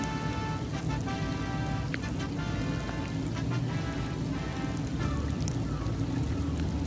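Steady heavy rain pours down, a dense continuous hiss with scattered drops spattering on surfaces throughout.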